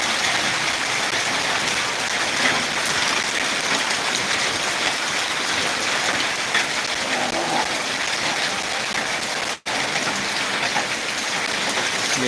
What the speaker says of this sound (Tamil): நல்லா மழை போயிட்டுருக்கு